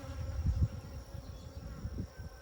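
Honey bees buzzing on a hive frame during queen cell rearing, a low, fluttering drone of many bees close by, uneven and moderately quiet, with no voices.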